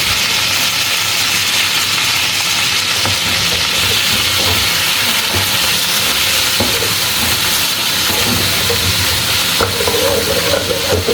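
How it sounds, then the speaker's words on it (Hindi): Chicken frying in a pan with chopped garlic and ginger, a loud steady sizzle with hissing steam and occasional stirring scrapes throughout, no voices. "इसको लहसुन अदरक डाल के, ये चॉप किया हुआ लहसुन अदरक है, ये डाल के तो मैं फ्राई करती हूँ।"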